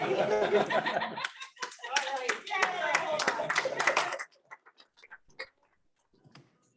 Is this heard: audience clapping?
yes